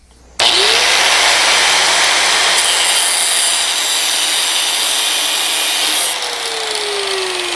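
A power tool cuts steiloud and steady, its abrasive grinding whine running continuously for about seven seconds with a rising pitch sweep at the start and a slight drop near the end, angled down to keep sparks off the legs and feet.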